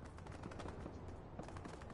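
Dense, continuous gunfire from bots and players in the video game Fortnite, rapid overlapping shots crackling without a break, loud and close.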